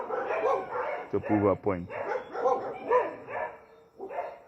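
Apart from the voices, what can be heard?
dogs barking at someone outside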